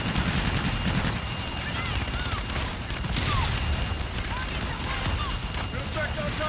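Requested fire strike pounding a marked target in Call of Duty Infinite Warfare: a dense, continuous barrage of rapid explosive impacts and gunfire, loud and unbroken, with a few faint radio-style voices underneath.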